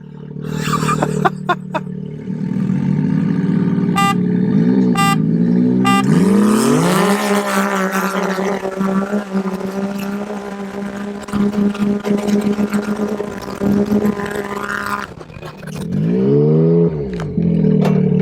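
A Can-Am X3 side-by-side fitted with an RPM titanium 3-inch Shocker exhaust pipe, heard up close and loud as it idles, then revs hard and holds high RPM with a raspy, ringing drone, with brief blips and a drop back near the end.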